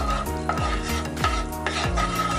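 Butter and oil heating in a pan on low flame for caramel popcorn, a continuous sizzle with repeated stirring and scraping strokes against the pan, close and fairly loud, with no voices.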